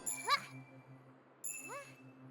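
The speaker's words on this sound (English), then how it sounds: "So Capri's light magic is made up of chimes," Chimes for Capri's light magic in the video game Sorelle ring out in two bright, shimmering bursts with rising glissando tones, each tail fading over a soft steady hum.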